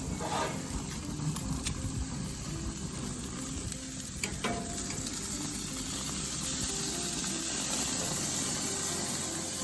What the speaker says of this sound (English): gonna flip the steaks